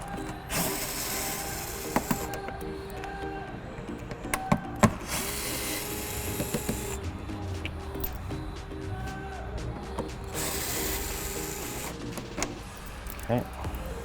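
A power screwdriver removes three T15 mounting screws from a front deflector on a C7 Corvette, whirring in three long bursts, with ratcheting clicks and sharp mechanical taps between them.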